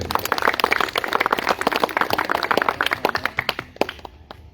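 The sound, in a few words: audience applause at school ceremony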